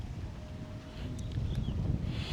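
Strong wind gusts outdoors during rain, a low, continuous buffeting rumble that swells slightly toward the end, with faint higher rustles and no voices.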